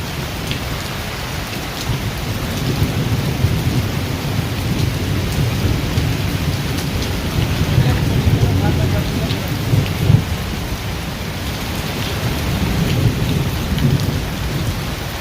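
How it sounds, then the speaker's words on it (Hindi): Heavy July rain pours down steadily in Ghayathi, Abu Dhabi, in a constant dense hiss, with low rumbling underneath throughout. "बारिश जी बहुत ज़बरदस्त बारिश लगी हुई है जी।"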